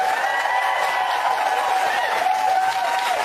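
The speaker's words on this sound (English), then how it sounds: "Give me a round of applause" A studio audience on a daytime talk show breaks into sustained applause, a dense, even wash of clapping that holds steady for the whole stretch with no pauses.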